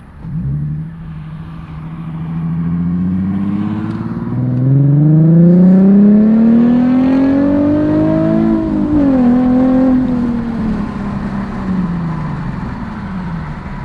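A Nissan 370Z Nismo with a full Tomei Ti Expreme aftermarket exhaust revs up gradually, its deep exhaust holding a loud high pitch, dropping briefly, then rising again before settling back down.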